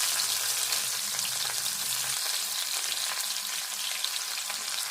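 Onions and curry leaves frying in a pan with oil, a dense, steady sizzle with soft stirring scrapes running evenly throughout at moderate volume, no voices.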